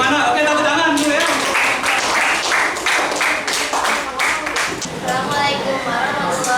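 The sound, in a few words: classroom applause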